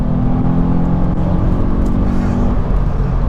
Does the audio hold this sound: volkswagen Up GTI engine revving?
yes